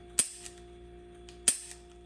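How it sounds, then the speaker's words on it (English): Two sharp, loud shots from a Tara TM-9 gun fire about 1.3 seconds apart, each a crisp crack with a short ringing tail, heard close and alone with no talking. "this gun shoots amazing"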